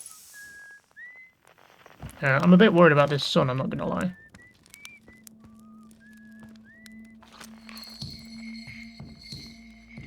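A whistling musician in the game Outer Wilds carries a quiet, wavering melody of short and sliding notes, paused while someone speaks, then resuming softly over a low drone.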